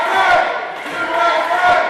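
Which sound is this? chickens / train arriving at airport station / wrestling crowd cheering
wrestling crowd cheering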